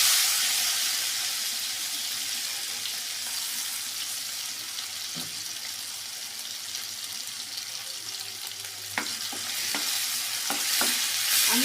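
Chopped and crushed garlic and onion frying in hot oil for mulo shak bhaji, a loud continuous sizzle close up, with a few sharp spatula taps and scrapes near the end.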